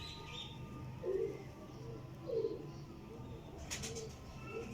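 Breeder's pigeons of the Frizpori and Taddy breeds cooing softly, about three or four low throaty coos spread over a few seconds against a faint hum of background noise.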